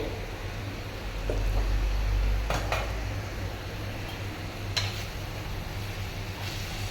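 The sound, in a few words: lid being removed from cooking pot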